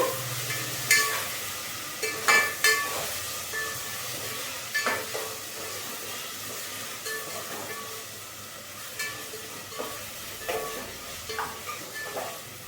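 Ginger garlic paste and vegetables frying in a home kitchen pan, a steady soft sizzle broken by repeated stirring scrapes and clinks, close and moderately quiet with no talking.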